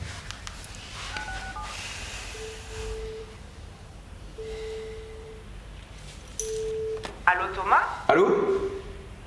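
A telephone is dialed on speakerphone, producing a series of separate, steady dial tones at intervals, with voices talking in the background and a louder clatter near the end.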